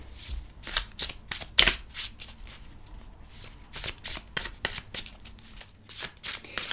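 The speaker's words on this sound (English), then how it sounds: "All right, I'm going to give the shuffle test. Shuffles fairly easily." Tarot cards with thin cardstock being shuffled close by, a series of quick riffling bursts and soft slaps, irregular in rhythm with brief gaps between them.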